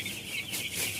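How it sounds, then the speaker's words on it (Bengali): Young broiler poultry chicks cluck and chirp in a brief, close burst, their soft calls overlapping with no voices present. "এগুলো তো পোলট্রি মুরগির বাচ্চা"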